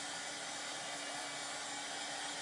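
Hair dryer blowing steadily on a pillow before heat pressing, a continuous even whooshing hiss with a faint motor whine, close and unbroken throughout.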